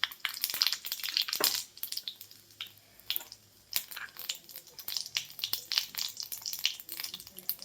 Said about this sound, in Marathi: तर तेल गरम झालेलं आहे. सगळ्यात पहिल्यांदा आपण यामध्ये मोहरी घालायची